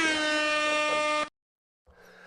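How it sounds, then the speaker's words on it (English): An air horn blasts once on a live show, a loud, brassy tone held for just over a second before cutting off abruptly into silence, followed by faint room noise. "I'm just getting the air horn up here"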